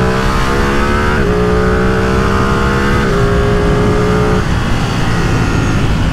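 Ducati Streetfighter V2 motorcycle engine revving loud and close, a steady buzzing drone that steps up in pitch as gears change, then settles into an even roar.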